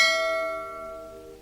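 A YouTube notification bell sound effect rings once, a bright metallic ding with a long, slowly fading shimmer lasting over a second, heard alone.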